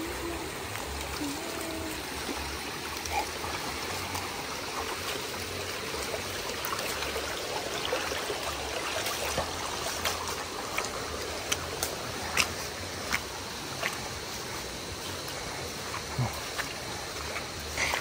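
A river gives a steady, broadband rush and trickle of flowing water as people cross it, continuous and close throughout, with occasional faint splashes and knocks.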